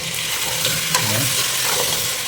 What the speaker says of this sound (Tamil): மட்டன் வச்சுருக்கேன், மட்டன் பாயில் பண்ணது. ஸோ அதை போட்டுறேன்.